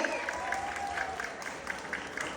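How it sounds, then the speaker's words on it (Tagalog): Scattered applause from an audience at a pageant, fairly faint and distant, with a dense patter of clapping. "wala man lang bang palakpakan dyan?"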